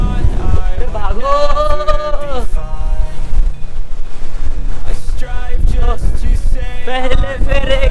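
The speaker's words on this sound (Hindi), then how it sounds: "भाई क्या खतरनाक हवा चल रही है भाई" Strong wind gusts buffet the microphone outdoors in Tamil Nadu, a loud, rough rumble throughout, while someone speaks excitedly over it and another voice joins later.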